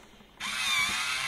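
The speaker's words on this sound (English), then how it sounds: "I forgot to drill this up." A handheld power drill starts abruptly and whines steadily at close range while boring into a robot part built from screws and blocks.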